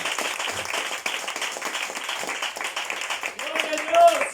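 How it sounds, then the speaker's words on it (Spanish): A church congregation applauding, a continuous crowd clapping that holds steady and swells slightly near the end. "Dele un aplauso al Señor si lo quiere hacer"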